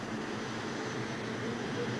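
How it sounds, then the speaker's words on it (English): Turbine engine of a tractor-pulling truck, the same type used in Huey helicopters, at a 1988 TNT tractor pull in Charlotte: a steady, loud, broadband jet-like roar holding constant throughout. "Same type of engine using the Huey helicopters in the Vietnam War"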